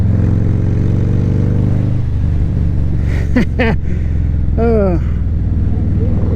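A Harley-Davidson motorcycle on a dealer demo ride holds a loud, low engine note, which shifts as the bike accelerates at under half throttle; a few brief higher tones cut in near the end.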